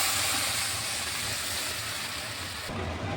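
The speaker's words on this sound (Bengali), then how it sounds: "এখন আমি পরিমাণ মতো জল দিয়ে দিচ্ছি" Water poured into a hot pan of fried rice and spices sets off a loud, steady hiss of sizzling steam, close and continuous, then drops off abruptly near the end. No talking.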